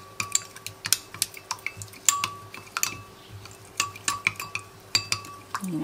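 Spoon clinking repeatedly against a bowl while cornstarch is stirred into water and coconut milk, a steady run of sharp close taps with no talk.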